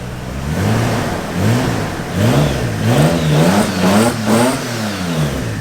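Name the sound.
rally Toyota Supra engine starting and revving after refresh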